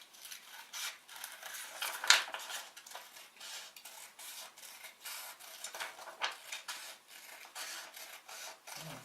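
Scissors snip through paper to cut out a notch collar pattern for a waistcoat, a run of close, crisp cutting and rustling sounds with one sharper click.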